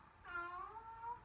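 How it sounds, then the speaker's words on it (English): A house cat gives one clear, drawn-out meow, fairly faint and alone in a quiet room. "I think that's my cat Hunter."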